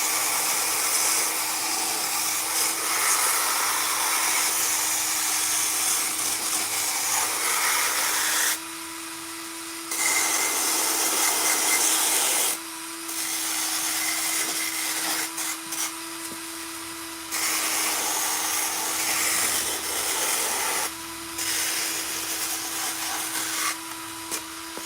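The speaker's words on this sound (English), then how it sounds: "So using the power drill" A power drill whirs in a barn, running in long steady stretches broken by short pauses as the trigger is released, a moderately loud mechanical drone with no talk over it.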